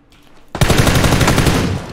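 Rapid automatic gunfire erupts in a PUBG squad match after a quiet half-second, a loud, sustained burst of close shots that keeps firing to the end of the clip.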